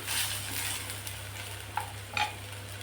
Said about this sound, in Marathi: कांदा परतलाय, आता यात आपण बारीक चिरलेला टोमॅटो टाकून घेऊ